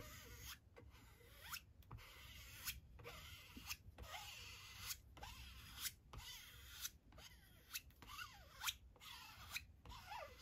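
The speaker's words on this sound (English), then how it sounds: "taking my card, just pull the paint down over the silk screen" A card drags paint across a silkscreen laid on polymer clay, giving repeated rasping scrapes in a steady back-and-forth rhythm, close and fairly quiet, with short pauses between strokes.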